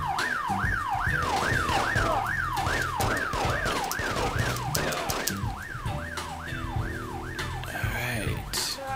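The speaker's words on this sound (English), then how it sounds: "police sirens." A wailing police siren in a video game sweeps up and down in a quick, regular rhythm, loud and continuous, over engine rumble and game noise.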